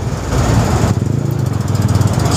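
A Yamaha R15 V4 motorcycle engine while riding, a loud, close, continuous buzzing drone with a rapid pulsing beat and steady wind noise, no voices.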